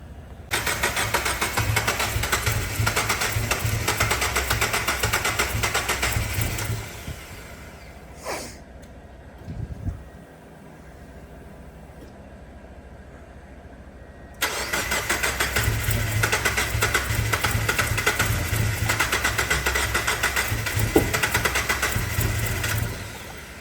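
A turbocharged Mazda Miata fitted with an AEM engine management system cranks, starts and runs loudly up close, then cuts out for several seconds before running again, with a sharp intake pop standing out.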